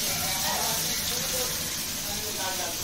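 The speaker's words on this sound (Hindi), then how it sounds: "बस ये तड़का दिखाना है इधर दही का।" A tadka tempering for a yogurt (dahi) dish sizzles in a pan, a steady, close, broad hiss that crackles continuously throughout without pause, with faint voice-like sound mixed in.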